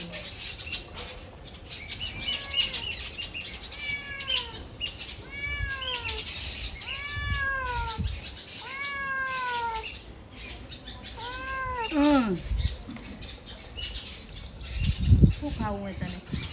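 Several drawn-out meows rise and fall one after another, with chirpy bird calls and faint background noise in between and a few thumps near the end.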